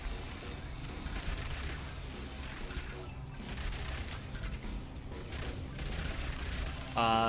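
Rapid SMG gunfire in a top-down zombie video game, an upgraded submachine gun firing in dense sustained bursts over game effects, with no pauses and a brief louder spike near the end.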